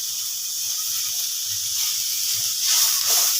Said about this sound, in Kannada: ಎರಡನ್ನು ಹಾಕಿ ಹುರಿದುಕೊಳ್ಳೋಣ